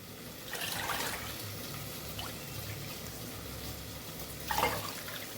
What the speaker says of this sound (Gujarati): ખીચડીની અંદર 3 વાટકી જેટલું પાણી ઉમેરશું અહીંયા।